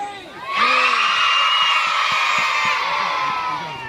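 A crowd of children and adults at a Saint George's Day event in Dartford, Kent lets out one big sustained cheer with whoops and shouts, loud and close, swelling then slowly fading.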